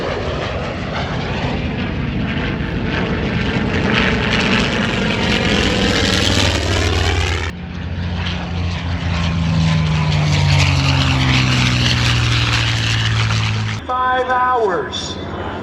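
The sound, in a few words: aircraft engines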